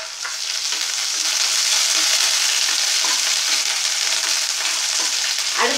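Curry leaves crackle and sizzle in hot oil in a pan, a steady, loud hiss of frying close by with faint spatters.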